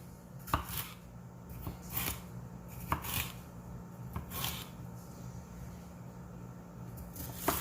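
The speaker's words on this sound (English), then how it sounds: "I'm gonna slice it" A knife slices a seeded bell pepper on a cutting board for a sofrito puree, giving a string of sharp, close chopping taps at an uneven pace with quiet gaps between them.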